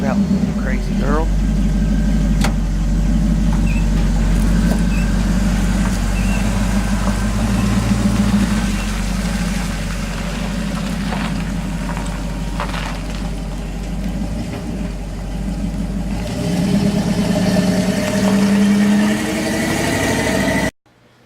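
Pontiac 400 V8 in a 1966 Chevy truck running steadily in a shop on a rainy day, a loud, low engine rumble throughout, with someone talking over it.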